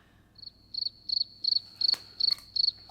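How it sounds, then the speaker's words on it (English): A cricket chirps in quick repeated triple-pulse bursts at a steady pace, close and clear over a quiet background, with a faint tap or thump partway through. "Yeah, the crickets."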